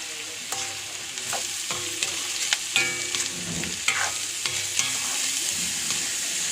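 Bitter gourd frying with turmeric powder and onion for a Kerala-style stir-fry, a steady sizzle broken by repeated scraping and clacking stirs of a utensil against the pan, close and fairly loud.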